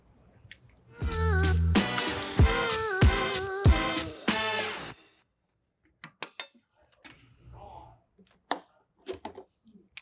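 Wrench clicks and metallic ratcheting while torquing bolts on the rear wheel bearing of a 2015-2021 Volkswagen Mk7 Golf R, a dense burst of close tool noise for several seconds followed by scattered sharp clinks.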